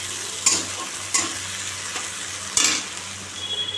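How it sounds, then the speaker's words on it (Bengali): Onions fry in hot oil in a home kitchen as ridge gourd fry is prepared, a soft continuous sizzle broken by three sharp stirring scrapes, with no talk. "তেলটা দিয়ে পেঁয়াজটা দিয়ে দিই পেঁয়াজটা লাল করে ভেজে"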